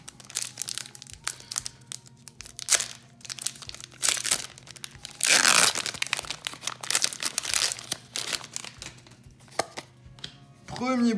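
Pokémon Sword & Shield Chilling Reign booster pack wrapper torn open by hand, a burst of foil crinkling and ripping in the middle amid scattered card handling rustles and taps, close and moderately loud.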